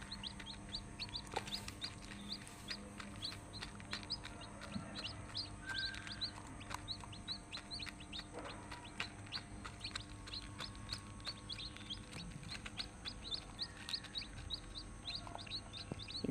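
A hen murmurs quiet clucks while she sits on her chicks, with high chirps from the chicks scattered across a faint, steady outdoor background.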